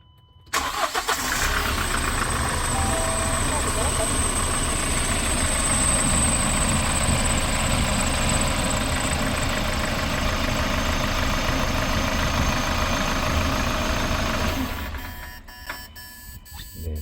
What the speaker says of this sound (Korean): 지금 일단 시동 걸어서 벨트 소리부터 확인해 볼게요.